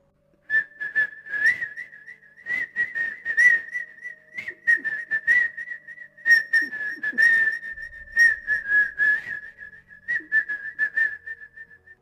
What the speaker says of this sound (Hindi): कोई सीटी बजा रहा था